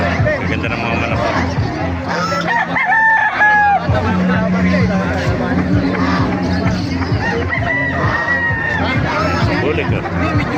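Roosters crow repeatedly at a busy open-air market in Calumpit, their calls mixed with clucking and a constant hubbub of crowd chatter and voices.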